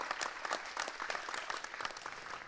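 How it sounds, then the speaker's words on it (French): Quiet, distant applause from the audience at a startup contest, a brief patter of many hands clapping steadily without voices. "On peut l'applaudir."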